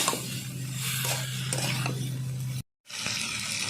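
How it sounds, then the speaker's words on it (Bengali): Spiced hilsa fish and moringa drumstick curry sautéing in a pan with turmeric, a steady close sizzle with scraping stir strokes, a constant low hum beneath, cut by a brief silent gap before the frying resumes. "দুই থেকে তিন মিনিট আমি কষিয়ে নেব ভালো করে একসঙ্গে সব"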